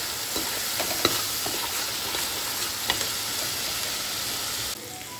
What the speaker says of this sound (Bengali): দিয়ে সমস্ত কিছু ভালোভাবে মশলার সাথে মিশিয়ে নিচ্ছি